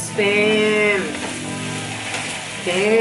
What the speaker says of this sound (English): spam and clam. So I'm gonna let this simmer down some more